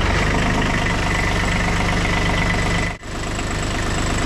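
An engine running on its own at idle, a loud steady rhythmic chugging rumble close by, briefly dipping in level for a moment before resuming, with no talk over it.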